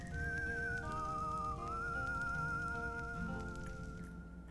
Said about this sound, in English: You always gotta have that awesome sleeping theme, but with the whistling and such